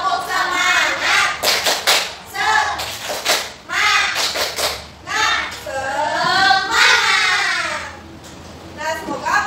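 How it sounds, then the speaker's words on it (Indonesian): Schoolchildren and their teacher in a classroom perform a rhythmic spirit-clapping chant, with sharp bursts of unison claps woven through loud group voices chanting together. "Ibu bakal ngajakin kalian bikin tepukan semangat"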